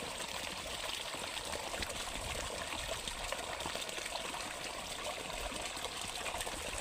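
Water pours steadily into a bucket while pesticide is mixed for spraying a cumin crop, making a continuous soft gushing trickle at low level. No talking is heard over the even flow.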